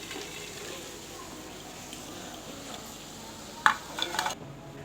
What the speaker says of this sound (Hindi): अब हम दूसरे डिजाइन को भी इसी तरह फ्राई कर लेंगे।